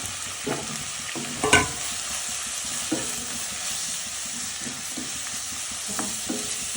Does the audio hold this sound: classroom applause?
no